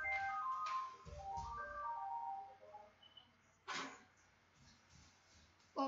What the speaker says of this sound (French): Téléphone avait sonné.